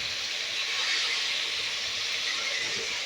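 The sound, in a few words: fish frying in a pan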